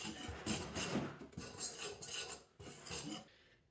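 Two flours are mixed for yeast waffles, a utensil scraping and clinking quietly against a bowl in a few short, rhythmic strokes, close and faint.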